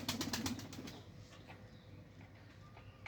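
Pigeons coo softly from their nest box, a short series of rhythmic, low, throaty pulses close by that fade into a quiet background.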